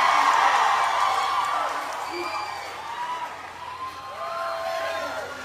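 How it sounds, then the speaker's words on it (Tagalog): A crowd at a Zambales political rally shouts and cheers loudly, a dense roar that swells at the start and then fades slightly, with a few whoops rising above it. "sa lakas ng sigaw ninyo, lahat makakarinig ng inyong sinasabi"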